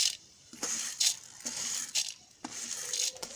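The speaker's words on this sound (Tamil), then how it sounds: "எண்ணெய் சூடாயிருச்சு பச்சைக்கடலை பருப்பு சேர்த்துக்கலாம்" Raw chana dal poured into hot oil in a pan, several bright clattering rattles in short bursts as grains hit the metal, close and fairly faint, with no talk.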